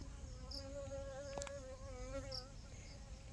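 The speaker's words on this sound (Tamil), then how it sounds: "இந்த வண்டு" An insect, a beetle or bee, buzzes steadily around large table rose flowers, a close, sustained drone that wavers slightly in pitch, with no talk.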